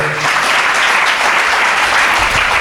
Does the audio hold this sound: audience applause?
yes